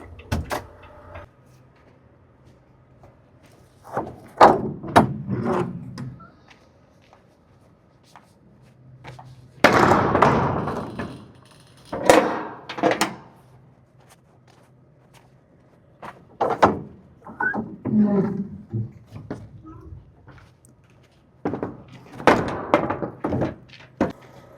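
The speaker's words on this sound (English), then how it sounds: "Let's go shut these doors." Heavy doors on a truck trailer are swung and slammed shut, several loud metallic thunks and clanks spread over about twenty-five seconds with quiet gaps between, close by and with no talking.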